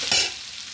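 Chopped garlic, ginger and onions tossed into a pan without oil and stirred, giving a brief loud burst of sizzling scrape that settles into a steady, softer frying hiss.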